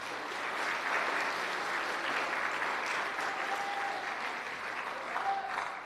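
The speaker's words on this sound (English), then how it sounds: "Let's give a round of applause for our two-sport athletes." A school awards ceremony audience gives a sustained, even round of applause for two-sport athletes, a dense wash of clapping from a crowded hall with no talking.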